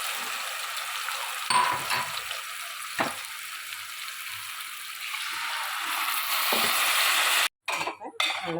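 Water is poured into a sizzling sardine fish curry masala in a pan, a steady hissing sizzle with scattered clinks and stirring scrapes, rising into a loud rush of sizzling before a brief gap and a few final clatters.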